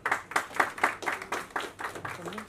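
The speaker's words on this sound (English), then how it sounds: "Big round of applause for her." Audience applause at an evening awards-style cover unveiling event, a crowd clapping steadily in rhythmic bursts for about two and a half seconds, moderately loud and without talk.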